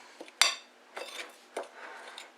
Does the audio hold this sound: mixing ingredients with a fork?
yes